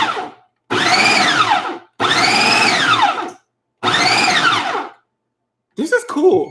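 A blender grinds nuts for a pumpkin pie filling in three loud, steady bursts of about a second or more each, separated by short pauses, followed by a brief clatter at the end.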